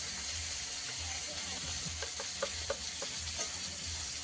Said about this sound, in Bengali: কাঁচা আর পেঁয়াজ একসঙ্গে ভাজা হতে হতে পেঁয়াজও ভালোভাবে ভাজা হয়ে যাবে